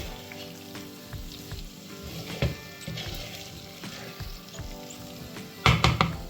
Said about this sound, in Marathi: अलगद आपल्याला परतवून घ्यायचे आहेत काजू.